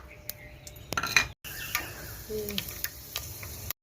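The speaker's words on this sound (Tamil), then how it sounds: "எண்ணெய் சூடு ஏறிச்சு நம்ம வெந்தயத்தை சேர்த்துக்கலாம்" Fenugreek seeds going into hot oil in a pan on a wood-fired stove: close metallic clinks and taps of a utensil against the pan, followed by a soft crackling hiss underneath.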